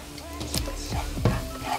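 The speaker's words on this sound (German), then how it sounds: "bratet darin die Zwiebeln mit etwas Chili an" Onions and chili sizzle softly in a hot pan while a utensil stirs and scrapes a few times, quiet and close.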